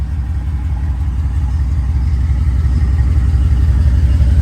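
A 1987 Chevrolet Silverado R10 pickup with a 5.7-litre throttle-body-injected V8 idles steadily and close by, a deep, even low rumble that holds unchanged throughout with no talking.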